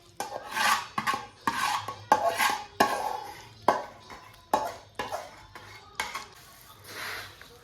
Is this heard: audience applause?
no